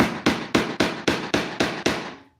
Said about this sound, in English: you can keep hammering these nails down and they'll spread out and wedge out and push things into